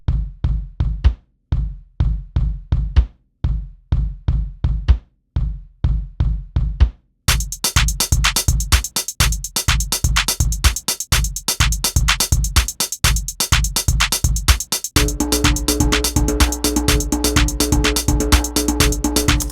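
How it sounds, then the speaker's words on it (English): A simple programmed MIDI drum beat at 125 BPM plays back in a Pro Tools session, steady kick and snare hits alone at first, then fuller with cymbals and added tones building over the loop. "It's just a little drum beat."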